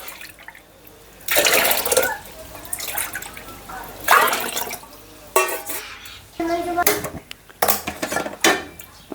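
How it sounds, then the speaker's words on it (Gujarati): Water splashes and pours in bursts into a metal pot, four bowlfuls for khichdi, with clinks of cookware between pours, close by. "ચાર વાટકી પાણી નાખું"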